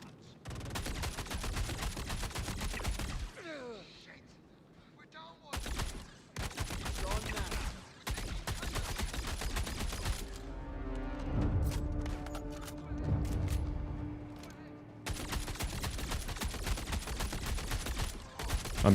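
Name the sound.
gunfire in Star Citizen video game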